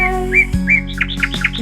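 Small birds chirp in a short run of bright tweets and whistled calls over a steady low hum, close and fairly loud, several notes in quick succession.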